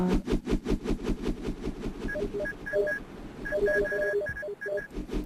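Telephone ringing in the video game Happy Wheels: repeated electronic ring tones chirp in a quick pattern over rhythmic thumping game sounds, moderately loud and close.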